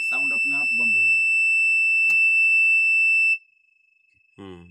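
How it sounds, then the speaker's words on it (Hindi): A bulldozer's seat belt warning alarm sounds as a steady, loud, high electronic tone for about three seconds under a man's speech, then cuts off abruptly before talking resumes. "सीट बेल्ट खोल दिए तो साउंड आता रहेगा"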